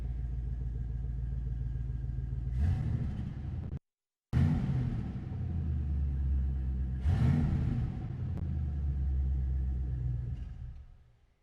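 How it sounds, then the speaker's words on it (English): A V8 engine rumbles in a 1948 Chevrolet 3100 restomod pickup making a little over 300 horsepower, idling deep and close with two throaty revs that rise and settle before it fades out. "Can't beat the sound of a nice V8."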